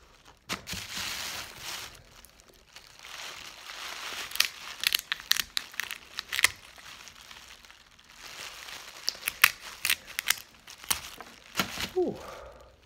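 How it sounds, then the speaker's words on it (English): A knife or shears cut open a snow crab claw shell, making close, irregular crunching and cracking bursts between quieter pauses, with a faint voice at the very end. "After that, you just cut it open."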